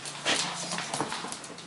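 An American Bulldog puppy whimpers and whines close by in short, strained cries while tussling with bigger dogs, with panting and scuffling between the cries.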